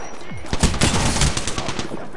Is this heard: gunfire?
yes